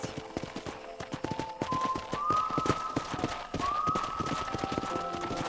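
Steady clip-clop of horse hooves trotting close by in the video game Red Dead Redemption, rhythmic and even, with a faint rising whistle-like tone drifting underneath.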